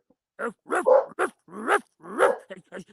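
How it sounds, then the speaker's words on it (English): A dog barks in a quick series of close, loud, sharp yaps with a slight growl, no talking in between. "And you're barking, Bear."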